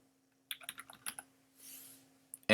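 Short bursts of crisp keystrokes on a Mac computer keyboard, a quick cluster of clicks close to the mic followed by a soft brief whoosh and a final sharp tap.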